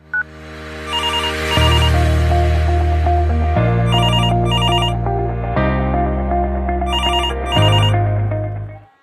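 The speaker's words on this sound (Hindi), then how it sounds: "फिर उन्होंने छोटे बेटे को भी फ़ोन लगाया।" A telephone rings with a loud electronic melodic ringtone, its short tune repeating about four times over a deep steady backing, with no voices.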